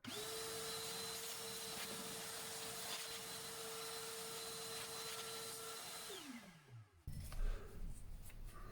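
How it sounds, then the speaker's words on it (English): A shop vacuum runs close by on a 4x6 bandsaw with a steady high whine, then powers down with a falling pitch before switching to a rougher, louder burst. "I'd like to use my vacuum on it directly, so I will."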